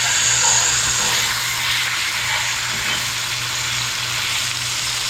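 Salmon fillets frying in a pan for an orange glazed salmon, a loud, close, continuous sizzle with crackling hiss that holds steady throughout, no one speaking.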